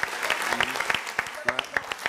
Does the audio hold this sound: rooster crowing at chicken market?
no